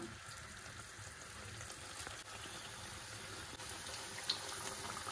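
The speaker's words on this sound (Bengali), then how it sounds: "এইভাবে আমি সবগুলো ভেজে নেবো" Battered green chillies frying in hot mustard oil, giving a soft, steady sizzle and bubbling throughout, fairly quiet, with a faint tap or two near the end and no voices.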